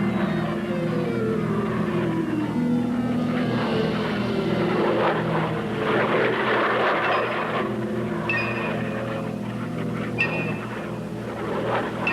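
Military aircraft on a bomb run, a continuous droning engine roar with shifting pitch and tonal whines, steady and loud throughout with no talk.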